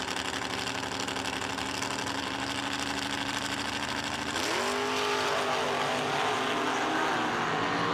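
A Chevelle drag car at a no-delay drag racing event, launching hard with its wheels up; a loud, steady engine roar holds, then rises sharply in pitch about halfway through as it pulls away.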